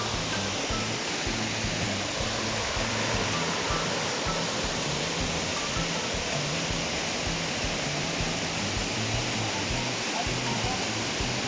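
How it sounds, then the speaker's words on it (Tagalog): A waterfall at a water outlet in Kidapawan City roars steadily, a dense, unbroken rush of falling water that stays loud and even from start to finish with no voices. "Ay isa ka outlet sa tubig dira."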